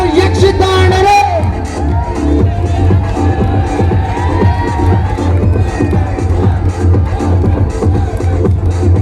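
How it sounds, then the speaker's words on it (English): A large crowd at a college freshers party cheers and whoops continuously, loud and dense, with scattered shouts rising above a steady roar of clapping and voices. "A big round of applause for Yakshita and Arun."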